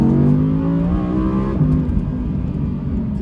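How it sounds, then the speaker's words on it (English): A rear-wheel-drive Audi R8 with a V10 engine revs loudly nearby, its pitch climbing and falling in smooth sweeps before settling into a throaty drone. "that V10 sound is literally addicting"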